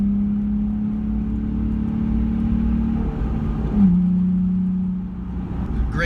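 A Nissan 350Z accelerating, its engine holding a steady low drone that dips and then climbs again midway, heard from inside the car.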